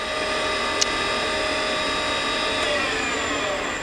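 A Southwestern Industries CNC vertical mill spindle spinning at 3,000 RPM gives a steady, even mechanical whine with high tonal lines, loud and continuous, with one brief click near the start.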